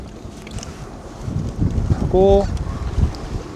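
A Sea-Doo jet ski with a supercharged engine fires up on the Han River with a short whirring, tonal start burst amid wind noise, while someone speaks.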